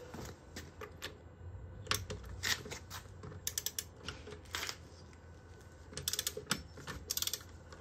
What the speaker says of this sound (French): je prends ma clé dynamométrique, je la mets en mode dévissage et on dévisse